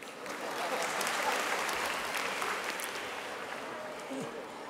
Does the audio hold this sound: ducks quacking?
no